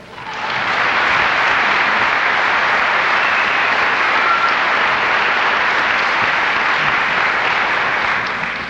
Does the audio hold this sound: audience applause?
yes